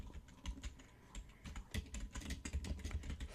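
Fingers tap quickly and unevenly on a computer keyboard, close up, in bursts of crisp clicks that pick up speed and density after a brief pause partway through, with no voices.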